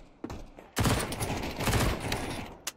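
Rapid bursts of gunfire from a Counter-Strike match, loud and dense from the onset, with sustained automatic fire and a few sharper shots near the end.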